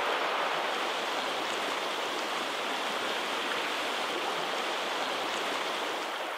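Trout stream water rushing steadily over riffles and boulders, a dense, unbroken broadband wash heard close up with no voices.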